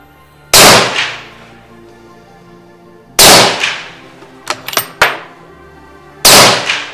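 A hunting rifle fires three sharp, loud shots during zeroing, each spaced about three seconds apart and followed by a short echoing decay, with a few small metallic clicks between the second and third shots.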